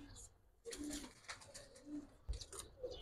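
Domestic pigeons, Giribaz high flyers, give low soft coos in short bursts over a few seconds, close by, with someone talking over them.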